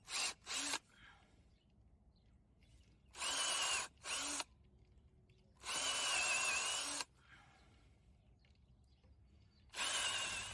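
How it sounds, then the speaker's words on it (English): A power drill boring holes into a mushroom log to receive dowels, heard in several loud whining bursts of one to two seconds separated by quiet pauses, close and with no talking. "So we're going to drill these holes now and get this ready to put these dowels in."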